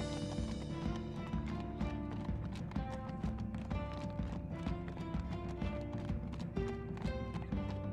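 Horses walk in Minecraft Story Mode, their hooves clip-clopping in a steady repeating rhythm beneath a continuous, tonal game music bed, fairly quiet overall.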